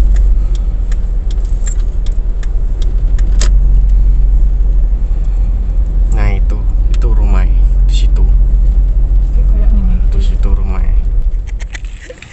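A car drives and turns to park beside a junior high school in Indonesia, a steady low engine and road rumble close by, with brief voices partway through before the sound fades out at the end.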